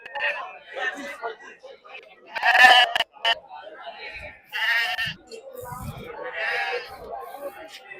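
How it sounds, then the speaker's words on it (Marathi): Sheep bleat loudly in bursts while people talk and chatter in the background of a busy livestock market at Chakan, Maharashtra. "ही सगळी मेंढ्यांची आवक आहे"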